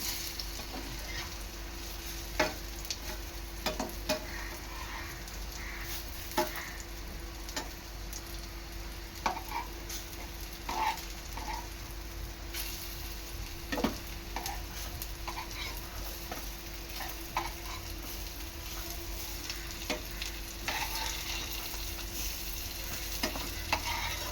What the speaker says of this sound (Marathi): दोन्ही साईडने खरपूस रंग येईपर्यंत तळून घ्यायचे आहेत एका साईडने अलगद पलटून घ्यायचे आहेत